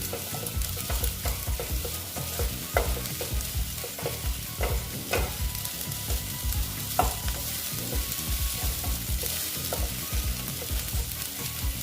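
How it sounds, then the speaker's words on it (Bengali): Spice paste for a katla fish curry fries in a pan under steady stirring, with a continuous close sizzle and occasional sharp scrapes and taps of the spoon against the pan, no voices. "এটাকে আমি ভালো মতন কষিয়ে নিচ্ছি"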